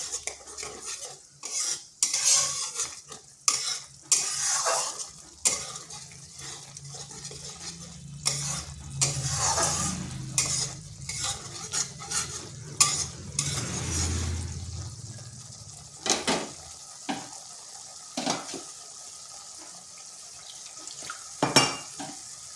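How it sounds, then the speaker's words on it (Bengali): Spice paste with tomato and ginger frying and being stirred in a pan for a vegetarian eggplant dish, with a steady sizzle under repeated scraping and clinking of a spoon against the metal, close and continuous without speech. "আর একটু সময় ধরে মশলাটা কষে নিচ্ছি, যাতে টমেটো এবং আদাটার কাঁচা গন্ধ চলে যায়।"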